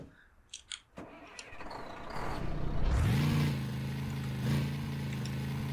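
A vehicle engine in Garry's Mod, fitted with a custom torque transmission, starts after a few clicks and jangles, cranks, then rises into a steady droning idle with a brief rev.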